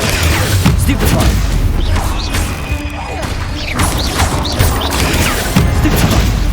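Spell combat in the video game Hogwarts Legacy, with repeated sharp magical blasts and impacts bursting over a constant dense rumble of battle, loud and close.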